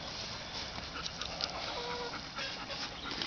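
A dog pants softly outdoors near a house on a farm where bulls are kept, a quick steady huffing rhythm at a distance, faint against light background noise.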